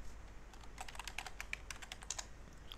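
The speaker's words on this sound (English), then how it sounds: "type in my password" A computer keyboard being typed on to enter a password, a quick, fairly faint patter of key clicks in an irregular burst with no talking.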